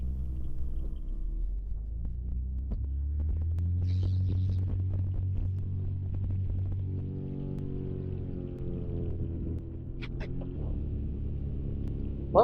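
A paramotor engine drones steadily through a Dudek wing launch, a low continuous hum and throb that holds at an even level throughout, with a brief higher whine partway in.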